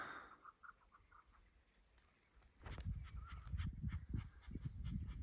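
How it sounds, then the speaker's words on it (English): A flock of chukar partridges calls in open sagebrush country of southeast Oregon, starting with faint, distant clucking and building into a louder, dense chorus of rhythmic chattering calls. "It's a flock of chukars up there."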